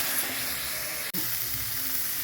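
Salted chitol fish curry base being stirred in a pan, a steady close sizzle and frying hiss throughout, broken by a brief clatter of the spoon near the middle.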